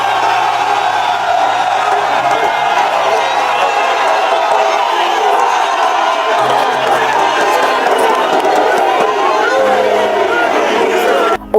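A crowd of striking teachers at an SOS Éducation rally in Gabon applauds and cheers in a steady, dense roar that fills the whole stretch at close range, with shouts mixed in.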